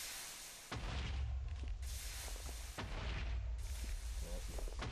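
A thrown grenade explodes in a modded Minecraft game, a sudden loud boom followed by sustained roaring, crackling blast noise, with two more heavy bursts striking in quick succession.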